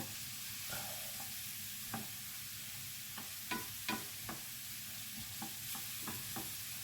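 Eggplant sautéing in a pan for a HelloFresh-style aubergine dish, a steady low sizzle broken by a series of soft scraping and stirring knocks at irregular intervals, close and fairly quiet, with no talking.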